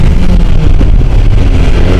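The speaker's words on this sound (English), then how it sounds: "Accelerate, brake, accelerate, brake." A motorcycle on a road, its engine roaring loud and close under heavy wind buffeting while the rider accelerates hard and brakes to warm the tires.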